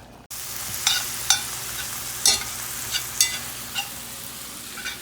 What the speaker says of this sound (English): Our pork chops are now boiling.